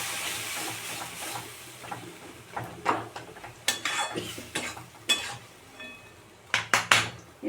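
A metal lid rattles and clanks onto a pot of dal and greens on the stove, several sharp clinks and taps over a soft steady hiss of steam, with no talking.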